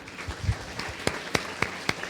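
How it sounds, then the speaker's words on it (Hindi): Congregation in a Sunday church service clapping, only a few sharp, separate claps heard close by against a quiet background. "क्यों ना यीशु मसीह के लिए ताली बजाएं।"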